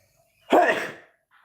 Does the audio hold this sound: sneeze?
yes